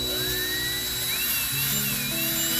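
A small drill with a 9/64 bit whines steadily while boring out the rivet of a Hot Wheels die-cast car, a thin high-pitched tone wavering slightly in pitch over low background hum.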